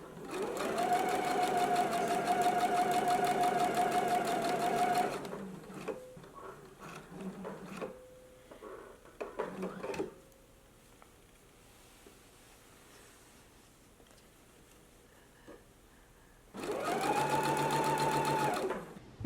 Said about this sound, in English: So let's go ahead and sew our neckline in place now.